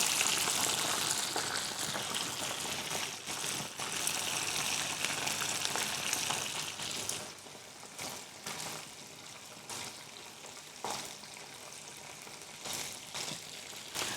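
Southern-style food frying in hot oil in a home kitchen, a loud continuous sizzle and crackle that fades to a quieter spatter with sharp pops as pieces settle.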